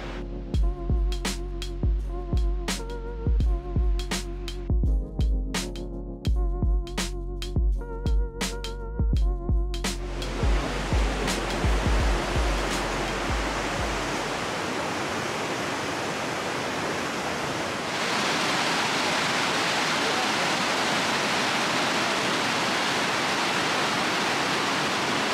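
A waterfall beside the Alpe-Adria cycle path roars as a steady, broad rushing wash, loud and continuous, growing fuller partway through after some clicking and rattling handling noise at the start.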